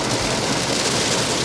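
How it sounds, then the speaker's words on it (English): Hail falls at Haleakala, pelting a windshield in a dense, continuous hiss of tiny impacts. The sound is steady and fairly loud, with no voices. "So yes, it is indeed hailing up here at Haleakala right now."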